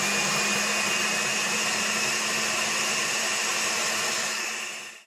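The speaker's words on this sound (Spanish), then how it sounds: "voy a licuar por unos minutitos y lo voy a reservar para preparar la mezcla de nuestro pan" A blender whirs steadily while mixing a chocoflan batter with sugar, a loud continuous motor whine that holds evenly, then cuts off and winds down at the end.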